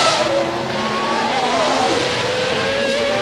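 A McLaren Mercedes Formula 1 car screams around the Sepang circuit at the 2002 Malaysian Grand Prix, its high-pitched engine note rising and falling loudly as it shifts through gears, heard alone without commentary.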